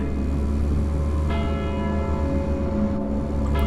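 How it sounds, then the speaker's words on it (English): A bell in the video game Deadly Premonition rings with a sustained, resonant tone over a steady hum of game ambience, with no one speaking. "I hear the bell."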